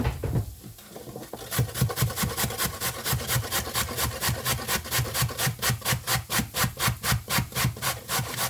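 Carrots grated on a hand grater: after a short quiet start, a long, even series of close scraping strokes follows at a brisk, regular pace, alone without speech.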